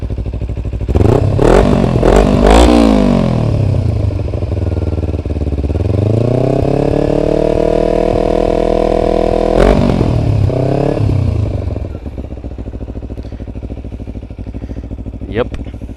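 A 2009 Kawasaki Ninja 250R engine revved up close by in sharp rising bursts, then held at a high buzzing pitch for several seconds before dropping back to a rough idle.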